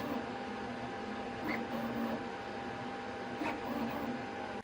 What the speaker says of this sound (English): So, I will just set the nozzle temperature to 320 degrees Celsius and print at the same speed of